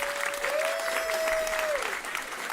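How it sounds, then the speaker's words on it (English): Steady applause from an audience at the close of an evening event on food security, filling the whole short stretch at moderate level, with a faint sustained whistle-like tone running through the middle. "Give yourselves a round of applause"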